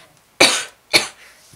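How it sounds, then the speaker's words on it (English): Two sharp, close coughs from one person, the first longer and the second shorter, separated by a brief pause with near silence around them. "Sorry, I have to cough a little."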